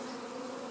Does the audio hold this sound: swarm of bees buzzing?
yes